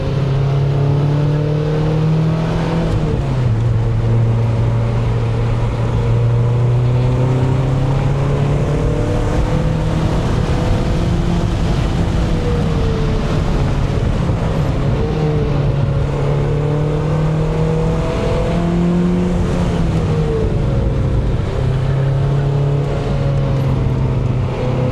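A 2.5-litre engine-swapped Mazda NC Miata runs hard around Grattan Raceway, its engine droning loud and steady with pitch rising and dipping through shifts and corners, continuous and close throughout.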